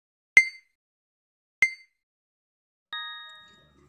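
Three chimes of a notification bell effect: two bright ding strikes about a second apart, then a softer sustained bell tone that rings out and fades, all alone against silence.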